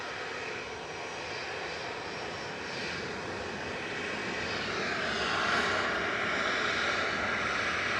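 A Boeing 737-800 jet bound for Palma de Mallorca at Manchester Airport gives a steady, fairly distant engine roar that swells slightly toward the end, heard alone without talk.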